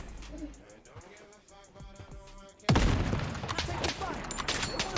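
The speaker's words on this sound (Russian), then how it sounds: "По мне еще стреляют." Gunfire in the online shooter Blood Strike, a sudden loud burst of rapid shots that stays dense and close, following quieter game ambience, with someone talking.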